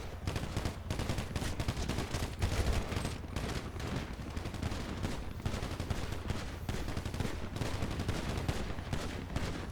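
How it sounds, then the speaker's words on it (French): Gunfire rattles in the GTA roleplay video game, with dense, rapid bursts of shots and volleys piling up continuously at a fairly even, moderate loudness throughout. "Allez, tirez, tirez, vous arrêtez pas de tirer."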